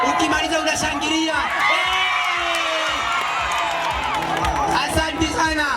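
Guests at a Kingdom Seekers Fellowship wedding cheer and whoop in a lively crowd roar that rises and falls, with a voice talking over the noise.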